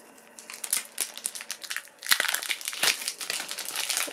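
A Pokemon TCG Lost Thunder booster pack wrapper tears and crinkles open up close, a run of crisp, uneven rustles and rips that grows louder and more vigorous partway through.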